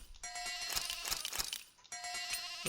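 Sheep bleat in Tales of Arise, a couple of bright wavering bleats close by and fairly loud over a steady game backdrop.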